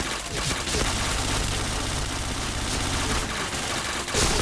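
Dense, continuous gunfire in the Point Blank shooting game keeps up rapid bursts of shots, loud and close throughout with no gaps.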